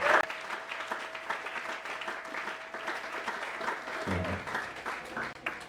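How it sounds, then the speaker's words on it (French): A church congregation applauds, a dense sustained burst of clapping from many people that carries on for several seconds, with some voices mixed in. "Acclamons le Seigneur Jésus"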